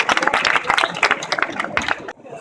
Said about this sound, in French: Elle méritait tous ces applaudissements.